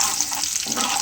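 Mustard seeds, chana dal and cumin temper in hot oil for a tomato pickle, giving a dense, steady, close sizzle for about a second with no talking.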